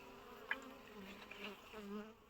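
Honeybees from a slightly aggressive colony at an opened hive in an abandoned apiary, a close and steady buzzing drone with single bees whining past now and then.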